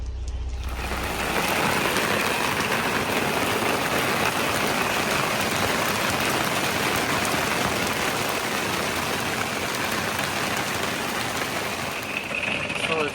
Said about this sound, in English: So it's hailing outside, and this is what it sounds like in an RV.